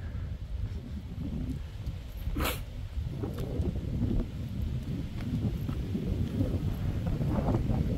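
Cold wind buffets the microphone at North Glenmore Park in low, rumbling gusts that rise and fall, with a few faint clicks and a brief high tone in the background.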